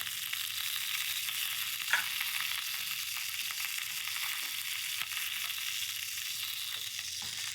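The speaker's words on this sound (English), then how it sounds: "Pan nice and hot. Asparagus over. And lay the asparagus in." Asparagus spears frying in a hot oiled pan, giving a steady, close sizzle that holds through the whole stretch with a few small pops and spits.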